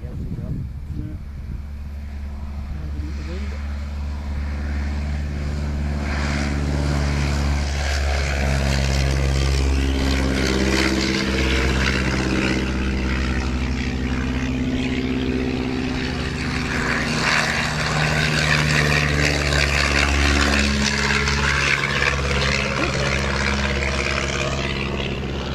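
A Tiger Moth biplane at Beccles Airfield in Suffolk opens the throttle for takeoff, its propeller engine droning loud and steady with rising pitch over about 25 seconds, while people talk nearby.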